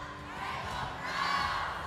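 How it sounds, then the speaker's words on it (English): A distant crowd at a Mobile Legends esports league match roars and cheers steadily for a couple of seconds, a broad wash of voices with no single speaker standing out. "everybody give a round of applause to Echo."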